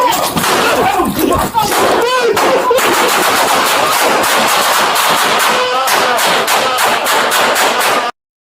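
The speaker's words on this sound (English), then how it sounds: "Shots fired! Shots fired!" Rapid, loud gunfire bursts out in dense, continuous volleys during a police confrontation with a gunman, with shouting mixed into the chaotic barrage.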